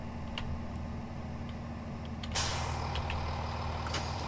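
A loud hiss of train air brakes bursts in midway over a constant mechanical drone and rumble, with faint clicking in the background, in the game Train Simulator on the Chiltern Mainline.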